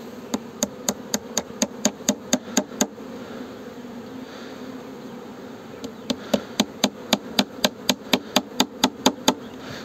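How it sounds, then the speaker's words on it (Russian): Nails hammered into wooden beehive frames at an apiary: a rapid run of sharp, evenly spaced blows, a pause, then another quick series of strikes, close and crisp over faint background hum. "Гвозди полностью не прибиваем."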